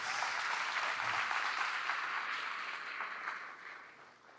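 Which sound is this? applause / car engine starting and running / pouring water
applause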